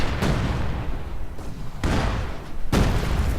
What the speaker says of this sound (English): Mortar element. Field guns firing, barrages